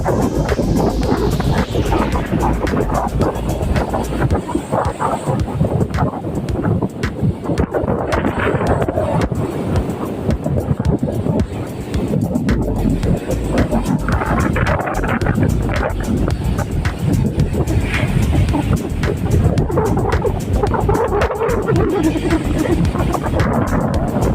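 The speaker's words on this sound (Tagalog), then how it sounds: "Lakas ng hangin, ang alon natin ay nagwawala." Strong wind roars across the microphone with a constant rumble, while heavy ocean waves crash and churn loudly throughout, at the shore during a fishing trip for milkfish.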